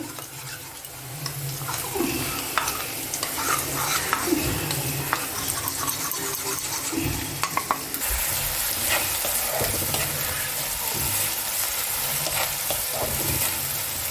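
Spices fried soft in a pan with a spice paste of cumin and water for a Bengali rui fish curry, a steady close sizzle with occasional stirring scrapes, no talk.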